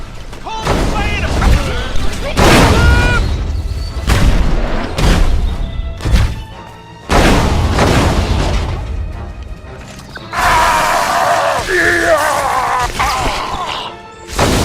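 Shooting and explosions in the Destroy All Humans video game: heavy crashes, booming blasts and gunfire hits strike in loud bursts between brief lulls, mixed with voices and game effects.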